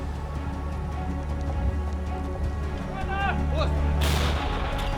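After a steady rumbling background, a single loud gunshot cracks out near the end, sharp and sudden.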